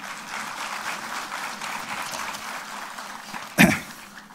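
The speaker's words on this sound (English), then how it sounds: "Give a round of applause for him." A round of applause for General Chauhan at a university lecture on future warfare, steady hall-wide clapping with a sharp loud cough or throat noise near the end.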